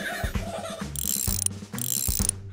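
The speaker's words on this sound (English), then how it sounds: "Strong muscles to clench, to lift up this wrench." A cartoon wrench being worked on a mechanism, giving rapid mechanical ratcheting clicks in two bursts with a bright metallic ring between them, loud and close with no talking.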